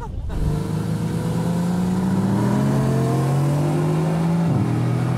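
Sports car engine revving on an airstrip, a close, loud, sustained climb in pitch that holds high for several seconds before dropping briefly and settling back into a steady drone.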